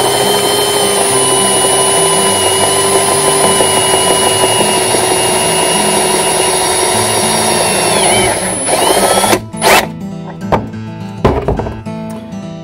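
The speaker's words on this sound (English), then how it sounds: "it's weird drilling holes in your hardtop" A power drill whines steadily at close range while boring holes in a Jeep hardtop, then stops and gives several short bursts, with clunks and handling noises in between.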